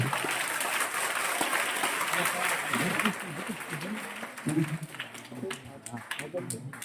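Audience clapping at a primary school Independence Day celebration in Kantrodi, a dense burst of applause for the first few seconds that thins out as a voice talks over the crowd.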